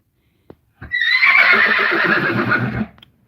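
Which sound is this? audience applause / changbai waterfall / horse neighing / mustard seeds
horse neighing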